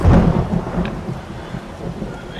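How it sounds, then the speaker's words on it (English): A rumbling thunderstorm in a survival video game, with a loud low roll of thunder at the start fading into steady rain and distant rumble. "I guess the storm made too much noise."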